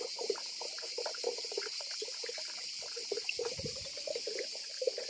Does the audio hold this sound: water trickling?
yes